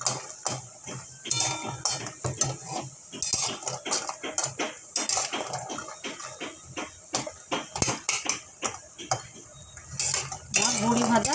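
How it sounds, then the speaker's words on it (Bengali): Lentil bori fry in hot oil in a pan, a low sizzle under frequent sharp metallic clinks and scrapes of a spatula stirring, close and uneven. "তেল গরম হয়ে গেছে, এবার বড়িগুলোকে ছেড়ে দিলাম। লাল করে বড়িগুলোকে ভেজে নেব।"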